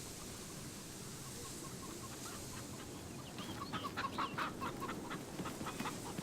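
Chickens cluck in the video game Fable, several birds overlapping in a steady, moderately close run of short clucks over a constant hiss of background ambience, growing busier toward the end.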